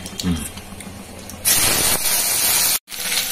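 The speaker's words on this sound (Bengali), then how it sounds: "আগে সোয়াবিনটাকে একটু তেলের উপরে দিয়ে দিই।" Boiled soybean chunks dropped into hot oil in a vegetarian Bengali thali, giving a sudden loud hissing sizzle that breaks in partway, briefly cuts out, then returns, after quieter kitchen sounds and faint speech.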